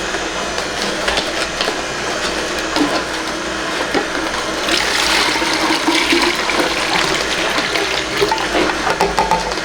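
Cold-pressed juice from a Nama J2 cold press juicer pours steadily into a bigger jug, a continuous close liquid splash and rush lasting the whole stretch, with no talking.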